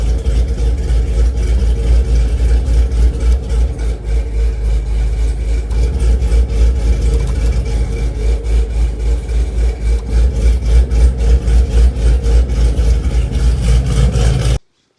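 A Chevrolet Camaro ZL1 V8 idles with a deep, steady low rumble after starting, a continuous close engine drone with slight rhythmic pulsing until it cuts off abruptly at the end.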